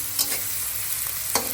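Onion and spices frying in a pan, a continuous close sizzle with a few brief scraping stirs of a spatula, no talk.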